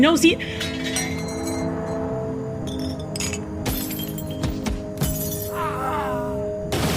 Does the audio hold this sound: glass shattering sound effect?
yes